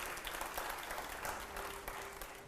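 A crowd in a studio audience gives a steady burst of clapping and applause, a continuous dense patter that sounds moderately distant and carries on with no one speaking over it.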